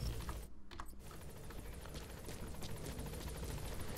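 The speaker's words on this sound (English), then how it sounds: "Obviously the helicopter gives you cover fire, if you ever need it." Helicopter arriving in the video game Metal Gear Solid 5, a steady rotor drone filling the scene with a brief dip near the start, with no talking over it.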